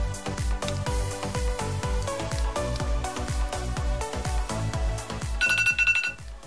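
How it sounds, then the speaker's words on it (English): A two-minute kitchen timer sounds during a glass-etching craft session, a long run of rhythmic repeated electronic beeps at a steady pulse, followed by a brighter, higher chiming tone toward the end. "All right, so the timer is up."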